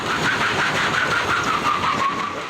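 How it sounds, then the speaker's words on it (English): The engine of a South Metro Fire Rescue pickup truck runs loud and close as the truck pulls a burning electric vehicle out of a garage, giving a steady mid-pitched drone with a rising whine. "a South Metro Fire Rescue pickup truck was used to pull the burning electric vehicle out of the garage"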